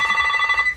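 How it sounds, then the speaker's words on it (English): A telephone rings with a rapid warbling electronic trill, one short burst close by that fades at the end. "I'm sorry my phone's ringing again"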